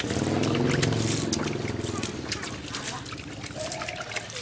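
Liquid splashes and trickles onto a damp mass of fermented goat or cattle feed while a person talks over it, the pouring loud at first and then easing off.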